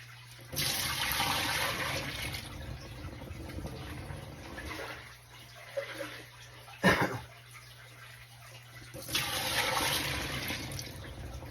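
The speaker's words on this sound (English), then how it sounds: "This is me dumping the water out of the tote" Water gushes and splashes out of a plastic tote in two loud pours separated by quieter trickling, with a brief knock of plastic in between.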